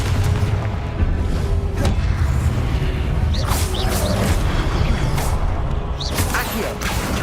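Confringo blasting spells exploding in Hogwarts Legacy, several booming bursts with whooshing tails repeating over a dense, loud game soundscape.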